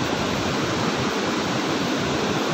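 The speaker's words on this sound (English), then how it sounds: "See the sound of water." Water of the Seti River in Nepal, flowing down from the Himalayas, rushes in a loud, dense, steady roar like a fast torrent or waterfall close by, with no pauses.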